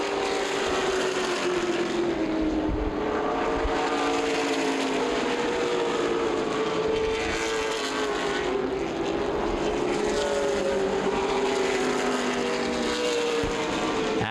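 Late model sportsman race cars at Lawrenceburg, Indiana in the CRA Fall Brawl, 2012, drone steadily around the oval, engines rising and falling in pitch as the pack rolls through the turns, with no voices over it.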